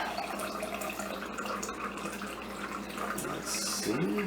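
Water runs from a tap and pours into a measuring cup, a continuous splashing trickle with faint background noise and a brief voice near the end.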